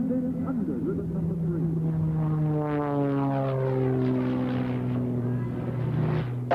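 Sean D. Tucker's Randolph Challenger aerobatic biplane flies overhead at the 1982 Moffett air show, its propeller drone sweeping past with falling pitch as it passes, loud and steady throughout.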